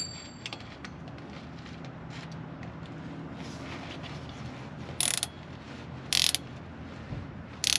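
Socket ratchet working on the driveshaft of a 2000 Jeep Grand Cherokee, giving quiet mechanical clicks and metal contact over steady background noise, with a few sharp bright bursts near the end.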